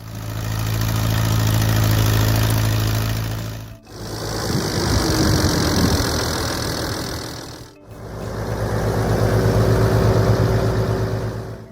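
A 1953 Allis-Chalmers WD45 row crop tractor engine idles loudly and steadily with a low, throbbing mechanical rumble, heard in three close-up stretches separated by abrupt cuts.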